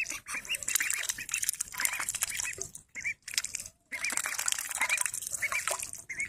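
Ducks dabble in a dish of water and fresh duckweed, a close, busy stream of wet slurping, sputtering and splashing with brief pauses between bursts, no talk.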